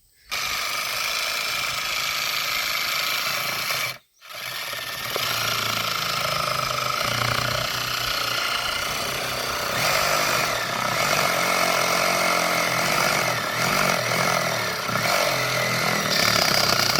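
A power drill works steadily on a pipe for an electric fence outdoors, a loud, continuous, rattling motor drone that cuts out briefly near the start and then runs on without a break, close to the listener.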